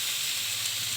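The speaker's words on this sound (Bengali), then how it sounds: "এইবার শাকগুলো দিয়ে দিচ্ছে, একটু সিদ্ধ করা ছিল" Lightly boiled pumpkin greens go into a hot pan of oil, giving a loud, steady, hissing sizzle that fills the whole moment without pause.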